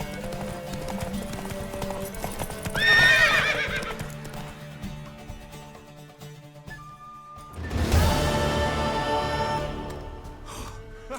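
A horse in the video game The Witcher 3 whinnies loudly twice, several seconds apart, over a steady patter of hooves and faint game ambience.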